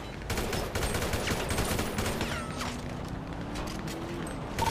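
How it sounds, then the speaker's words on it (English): Enemy gunfire in a video game castle hold-out: a steady crackle of rapid shots and bursts, fairly near and loud throughout, with whooshing and mechanical clatter mixed in and no talk. "Bro, I don't even see where they're shooting."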